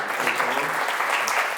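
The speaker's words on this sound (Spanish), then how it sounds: "Un aplauso" A lecture audience applauding a professor after a talk on what a constitution is, a steady dense wash of clapping throughout with no pauses.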